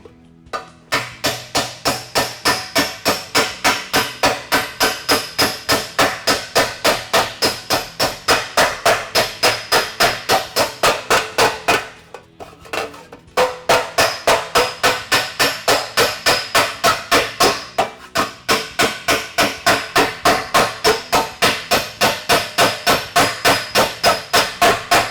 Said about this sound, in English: I'll fix those areas by hammering.